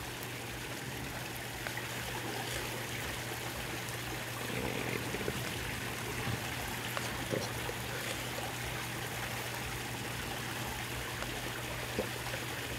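Liquid beneficial bacteria for a pond pours and trickles into a container of warm water, a steady close gurgling stream running without pause under a low constant hum.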